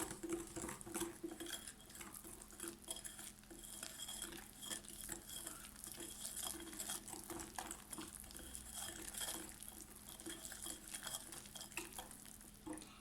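Baking powder and vanilla are stirred into a cookie dough mixture in a bowl, giving soft, steady clinks and scrapes of a utensil against the dish, faint and continuous with no talk.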